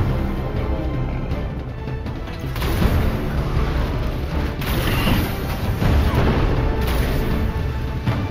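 Weapon fire in the video game Ark from the Tek railgun, with heavy booming blasts over a dense, loud mechanical roar that carries on throughout, with no talk.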